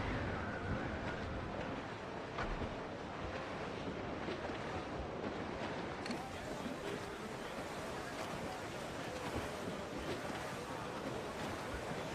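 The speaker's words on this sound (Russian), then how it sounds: "Море разбушевалось!" Crashing sea waves and gusting wind roar continuously in a stormy sea in Assassin's Creed 4 Black Flag, dense and stormy, with faint voices buried underneath.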